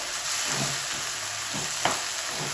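A spatula stirs sliced onions into masala in a hot pan, giving a steady sizzle with a few soft scraping strokes and one brief clack.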